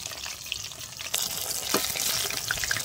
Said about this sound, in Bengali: আমি এটাকে কিন্তু উল্টে পাল্টে হালকা আঁচে ভেজে নেব।